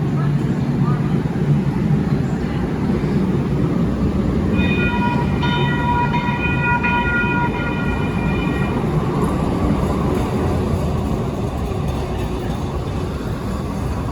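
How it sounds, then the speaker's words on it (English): A Sacramento RT light rail train rumbles steadily past near the Crest Theater, loud and close, with a brief horn-like tone in the middle and constant street noise around it. "There's the train I was on right there."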